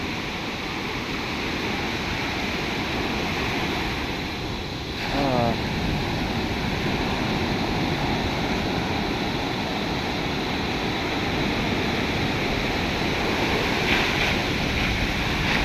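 Big sea waves crash and wash on the shore in a steady roaring broadband rush, with wind noise buffeting the microphone throughout.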